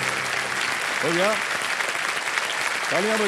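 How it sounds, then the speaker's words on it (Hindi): Studio audience applause on a television quiz show, a steady loud clapping that continues throughout while someone speaks over it. "तालियां बजते रहे शिल्पा जी के लिए"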